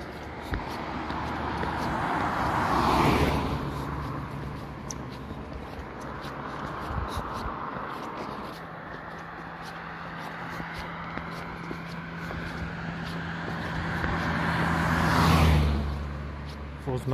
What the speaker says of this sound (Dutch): er komen nu 3 auto's